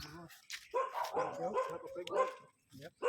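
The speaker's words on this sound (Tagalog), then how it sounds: "May mga aso." Dogs bark in quick, uneven bursts with short pauses between them, fairly faint and some distance away.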